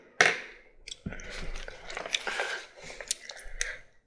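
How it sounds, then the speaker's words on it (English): Gum being chewed close to the microphone in a quiet ASMR setting: soft, wet smacks and clicks in an irregular rhythm, with a few sharper snaps scattered through and no talking. "I'm gonna be doing some drawing sounds for you and chewing some gum"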